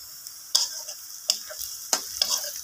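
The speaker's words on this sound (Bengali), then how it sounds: "পেঁয়াজটা আপনার লাল লাল করে ভাজা হচ্ছে আগে" Chopped onions fry in oil with cumin seeds, giving a low steady sizzle broken by a few sharp clinks of a stirring spoon against the pan.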